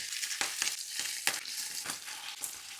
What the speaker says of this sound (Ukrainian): На розігріту сковорідку додаю олію і виставляю смажити стегно